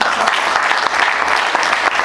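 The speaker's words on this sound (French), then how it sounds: "Voilà, donc on peut l'applaudir." An audience at a talk on innovation claps in a brief, dense burst of applause, steady and close throughout.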